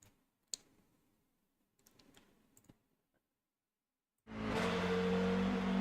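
A race car engine on a qualifying out lap at the Hockenheimring Grand Prix circuit in a racing video game. Faint ticks and clicks come first, then a loud, steady engine roar cuts in abruptly and holds to the end.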